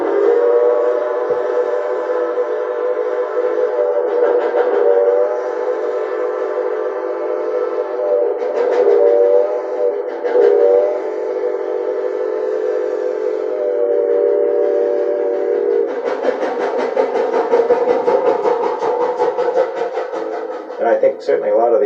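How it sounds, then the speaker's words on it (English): A steam locomotive whistle on the Conway Scenic Railroad blows in a long sustained chord, loud and steady for many seconds, with brief dips and a final stuttering burst as the blast ends. "the steam whistle blows, there's a resonance across the valley"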